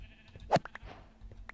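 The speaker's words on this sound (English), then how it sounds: "Holy crap, look at all the sheep over there." Sheep bleating in the video game Minecraft, a short bright bleat followed by a few softer blips, close and alone.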